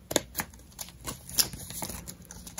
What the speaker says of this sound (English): you want to use your scissors, and just use the scissors.